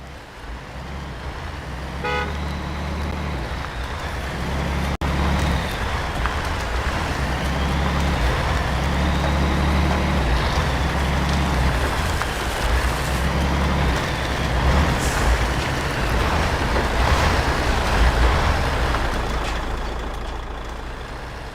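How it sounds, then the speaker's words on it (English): A heavy truck engine in the video game MudRunner rumbles steadily, its pitch rising and falling as it revs, with a turbo whine and a short horn toot near the start. "just have a little listen at this truck."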